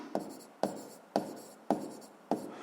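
A pen writes a physics formula on paper, five short scratchy strokes spaced about half a second apart, close and quiet.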